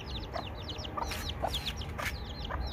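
Chicks cheep rapidly in thin, high, repeated chirps, fairly close, over a low background hiss.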